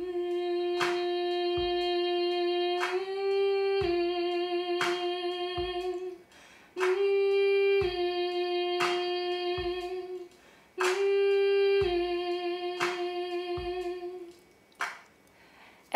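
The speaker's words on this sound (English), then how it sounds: "I started off with the high hum" A sustained, high-pitched hummed tone carries a work song melody, held steady with a few pitch steps. It repeats in long phrases over a backing of rhythmic percussive hits and loops.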